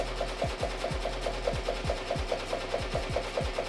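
An embroidery machine stitches over foam, a loud steady mechanical drone with a fast regular needle pulse and repeated low thumps, close by with no voices.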